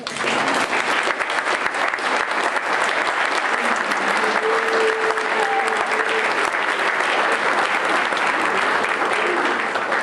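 Loud, sustained applause from a large crowd at a candidates forum, dense clapping that continues steadily, with faint voices mixed in.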